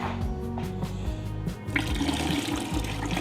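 Water poured into a big garbage-bag-lined pot while mixing a turkey brine with bourbon and maple; a steady, close splashing and gurgling stream that grows fuller partway through.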